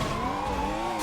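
A sports car engine in a video game revs with a steady, loud tone that rises slightly in pitch, filling the whole short moment without speech.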